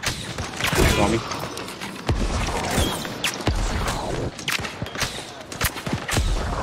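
Dense video-game battle noise during a New World fort invasion: repeated booming cannon and gunfire blasts pile up with clanks and creaks, loud and continuous, while voices talk underneath.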